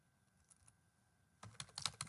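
Keystrokes on a computer keyboard while typing JavaScript code, a quiet stretch then a dense burst of clicky taps in the final half-second, close and alone without any voice.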